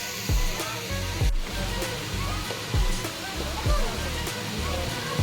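Monsoon-fed mountain spring water splashing down in a steady rush at a fair, with rhythmic thuds of splashing and a child slapping water, and voices faintly in the background.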